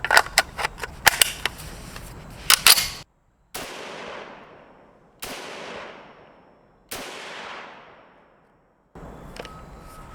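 Springfield M1A SOCOM rifle fired slowly at a range: after a flurry of sharp cracks, three loud separate shots ring out, each with a long decaying echo and a pause between.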